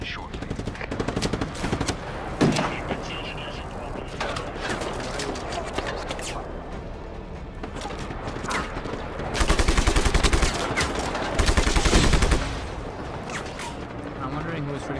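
Enemy gunfire in Just Cause 3, rapid machine-gun bursts and scattered shots rattling throughout, louder sustained bursts toward the end, with a voice talking in between.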